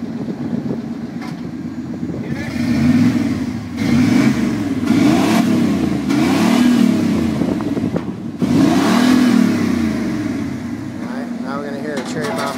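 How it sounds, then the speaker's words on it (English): A Chevy Suburban 350 V8 running a Flowmaster muffler rumbles at idle, then revs in a series of loud, deep, rapid throttle blips with pauses between, close up, a brief voice heard near the end. "Alright, now we're going to hear flowmaster."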